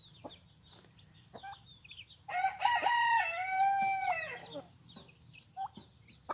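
A rooster crows loudly for about two seconds amid quieter clucking from nearby chickens and a low steady background hum.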